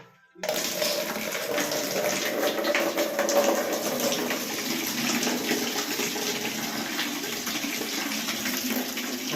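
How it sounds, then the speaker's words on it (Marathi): Hot water gushes steadily from a tap to fill a bath, a continuous close rushing flow that starts abruptly after a brief silence and runs unbroken without any talk. "त्या गरम पाणी सोडतो."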